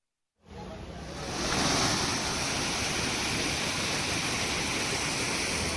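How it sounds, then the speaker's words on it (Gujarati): Monsoon floodwater rushing through the streets of Porbandar, Gujarat, a loud, broad, steady roar of flowing water that starts abruptly and swells within a second, then holds without a break. "રોડ રસ્તા પર નદી વહી રહી હોય તે પ્રકારના દ્રશ્યો સામે આવી રહ્યા છે"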